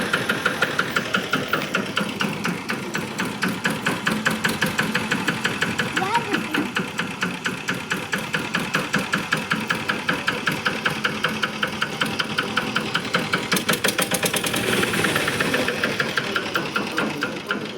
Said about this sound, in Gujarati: ટ્રેક્ટર હાકવું.